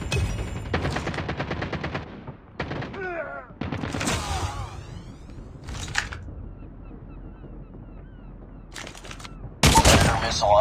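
Gunfire in the Call of Duty Mobile video game: bursts of automatic shots and loud blasts come in separate clusters with short gaps between them, along with some metallic clicks, close and loud, and no talking.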